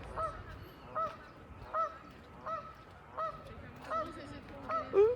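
Repeated honking calls from waterfowl, about seven evenly spaced bursts over a quiet outdoor background.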